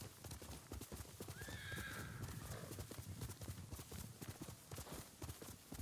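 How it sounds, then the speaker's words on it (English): A horse in Ghost of Tsushima lets out a short whinny over rapid, steady clip-clop hoofbeats in this feudal Japan game, the galloping continuing close and clear throughout. "what was that horse call?"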